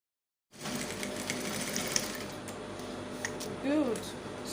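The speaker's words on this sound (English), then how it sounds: "So let's take it now to the sewing machine and sew that together." A sewing machine stitches a seam on a keyhole sweetheart neckline, running as a steady close mechanical whir with fine rapid ticking that holds for about four seconds.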